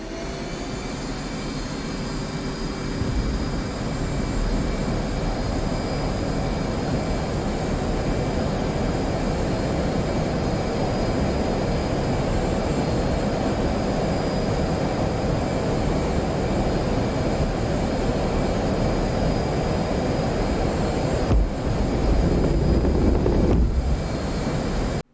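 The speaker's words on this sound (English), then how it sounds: "That whining sound she makes when she spools up now is great." A jet aircraft engine in DCS World whines steadily as it spools up, a loud continuous roar with a high tonal whine layered on top that builds and holds for the full length before cutting off near the end.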